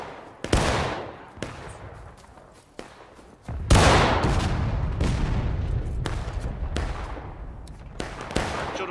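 Musket volleys crack in the Civil War video game War of Rights, a string of sharp, loud reports, some isolated and some overlapping into a rolling fusillade with echoing tails, while players shout over the gunfire.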